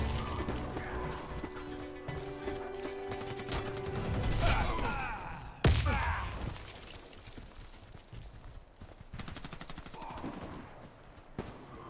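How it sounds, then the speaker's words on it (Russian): A grenade blast in the online shooter Warface erupts amid rapid gunfire, a loud broadband boom standing out from steady bursts of shots and a second sharp crack following close behind. "Граната пошла!"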